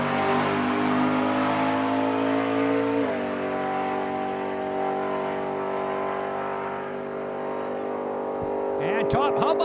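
A drag racing car at Saskatchewan International Raceway makes a single pass, its engine roaring loud and steady, the pitch dropping sharply partway through before carrying on, while an announcer's voice runs over it.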